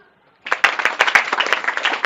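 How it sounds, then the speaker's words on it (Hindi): An audience at a session on vegetarianism and the environment breaks into applause after a brief silence, a burst of many hands clapping close and steady until the end. "तालियां भाई"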